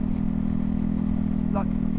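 A Ducati Hypermotard 698 single-cylinder motorcycle pulls away with a steady, droning engine hum under constant wind noise, and a voice talks briefly over it.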